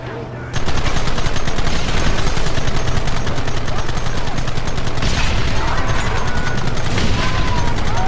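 Dense, continuous gunfire in a Red Dead Redemption shootout, with rapid overlapping shots and machine-gun bursts crackling almost without pause for several seconds after a brief quieter opening.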